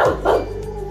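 A dog gives two short barks close by, followed by a low whimpering tail-off, with no talking.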